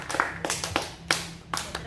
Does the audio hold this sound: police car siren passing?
no